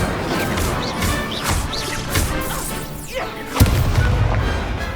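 Incendio fire spell cast during a duelling tournament in the Hogwarts Legacy video game: a burst of whooshing magical effects ends in a sharp crash and a rumbling low boom, loud over busy game sound.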